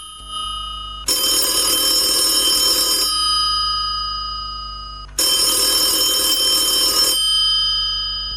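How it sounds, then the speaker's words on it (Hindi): A telephone bell rings in two long bursts of about two seconds each, loud and close, with a pause and a lingering ring between them. "टेलीफोन की घंटी बज रही थी।"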